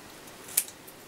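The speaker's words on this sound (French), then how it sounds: "je coupe le scotch qui dépasse" A single quick snip of scissors cutting off excess adhesive tape, a short, sharp close click in a quiet room.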